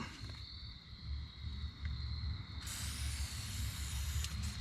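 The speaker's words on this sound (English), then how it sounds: "I'm gonna spray this" Steady hissing spray from a spray can on a boat over a low rumbling background, growing broader and brighter partway through, continuous for several seconds.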